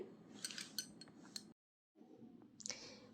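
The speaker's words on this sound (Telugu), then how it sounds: "ఈ పొటాటోస్లోకి గ్రేవీ వెళ్ళడానికి ఫోర్క్తో కొంచెం గుచ్చుకోవాలండి" A fork pricks boiled baby potatoes for curry, making a quick run of light metallic clicks and clinks against a dish, then a brief silence and a few more scattered taps, close and quiet.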